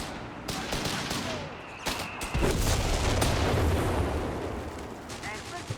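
Artillery barrage in Company of Heroes 3, a 2v2 World War II strategy match: a dense run of booming blasts and rattling fire, loud and continuous, swelling midway and holding steady under a busy battlefield din.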